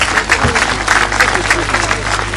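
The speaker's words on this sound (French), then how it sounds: "Applaudissons." An audience applauds at a community gathering, a dense, fairly loud wash of clapping sustained throughout with some crowd murmur underneath.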